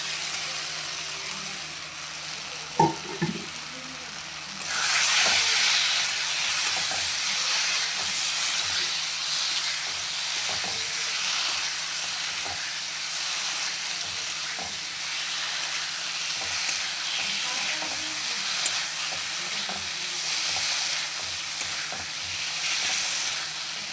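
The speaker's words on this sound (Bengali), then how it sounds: "আলুগুলো দিয়ে কষিয়ে নেব।" Potatoes dropped into hot, spiced oil with masala for a fish and cauliflower curry hiss up suddenly into a loud, steady sizzle that holds close and unbroken to the end, with a few faint clinks early on.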